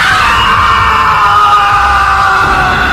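A loud, sustained scream of terror carries over a phone line in a horror tale, one continuous strained cry holding steady for the full three seconds.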